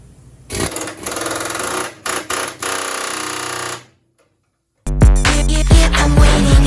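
A pneumatic chisel hammers at rusted metal on a car in bursts, with a loud buzzing chatter, a brief pause and then harsher rapid pounding.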